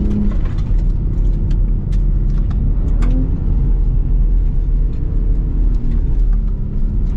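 A Ford Raptor pickup truck rolls over a run of bumps off-road, its steady low rumble and road noise continuous and close throughout, with faint knocks from the suspension scattered over the drone.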